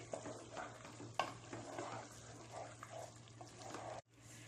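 Frozen peas being stirred into potato pulao in a pot, soft scraping and gentle sizzling at low level, a brief knock partway through, with no talk.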